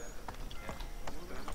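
Horse hooves clip-clop in a rapid, regular rhythm in the Assassin's Creed 3 video game, the steps close and distinct over a steady background hum, with no talking.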